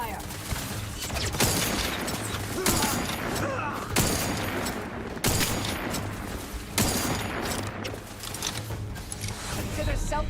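Video game gunfire in dense, continuous bursts, loud and close, with repeated heavy blasts over a constant rumble.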